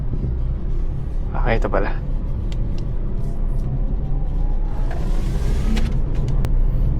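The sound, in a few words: VinFast VF3 car driving and accelerating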